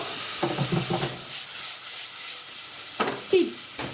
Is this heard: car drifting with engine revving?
no